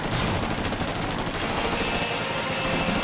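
Rapid gunfire from the Taito Haunted Museum arcade light gun game, a dense, continuous burst of shots filling a few seconds at close, loud level with no talking.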